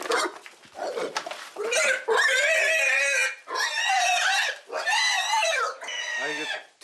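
A black pig at a village livestock pen squeals loudly while fleeing, in a run of shrill, drawn-out shrieks with brief gaps between them, close by.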